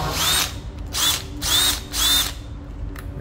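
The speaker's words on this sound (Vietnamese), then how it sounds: "tiếp theo số 14 là một cây Makita. Ba chức năng nha các bác nha." A Makita DHB482 18V three-function cordless hammer drill runs in four short bursts, each a bright whirring spin-up and stop with brief pauses between, close and loud.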